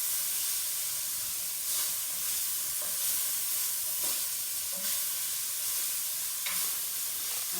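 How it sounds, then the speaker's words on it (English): Shanghai rice cakes sautéing with garlic in a hot pan, a steady close sizzle broken by occasional stirring scrapes and clatters, with no talk. "And continue sautéing"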